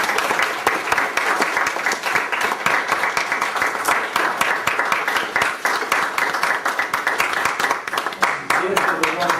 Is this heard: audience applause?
yes